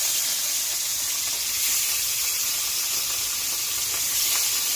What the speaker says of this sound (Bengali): মাছটা কড়াইতে দিয়ে দেবো,